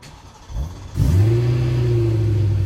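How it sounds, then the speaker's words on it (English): A 2011 BMW M3 Coupe engine cranks briefly on a cold start, fires up with a rising roar, then settles into a loud, steady, slightly lumpy idle. "The sound it makes when you start it up cold."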